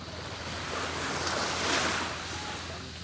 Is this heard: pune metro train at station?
no